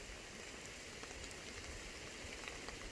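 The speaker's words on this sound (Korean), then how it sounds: "지금 비가 오락가락 하는, 오락가락 하는데" Rain falls outdoors on a mountain hike while foraging for cauliflower mushrooms. It makes a steady, dense patter on surrounding surfaces with small irregular drops standing out, and nobody speaks.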